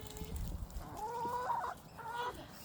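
Hungry pet chickens at afternoon feeding time, giving a few soft, drawn-out clucks and calls at close range over a low background rumble.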